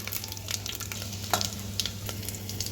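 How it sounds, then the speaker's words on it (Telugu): Fenugreek, cumin, mustard seeds and dry red chilies crackle and sizzle in hot oil over a low flame, with a steady frying hiss broken by sharp pops and a few stirring scrapes close by. "కొన్ని మెంతులు వేసుకోవాలి జీలకర్ర ఆవాలు వేసుకోవాలి రెండు ఎండుమిర్చీలు సుంచేసుకోవాలి"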